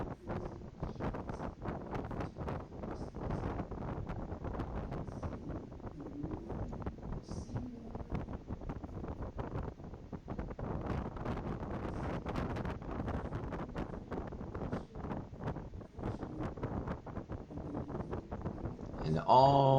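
Cold wind off glacier ice buffets a boat heading toward Hubbard Glacier in Alaska, a continuous rough roar of gusts over the microphone that lasts throughout, with voices mixed into the blustery noise.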